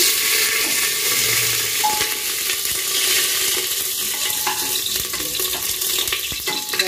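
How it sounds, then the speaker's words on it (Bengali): Two bay leaves dropped into hot oil, a loud, close, continuous crackling sizzle that fills the whole stretch with no voices over it. "এবার আমি তেজপাতা দুটো ফোড়ন দিয়ে দিলাম।"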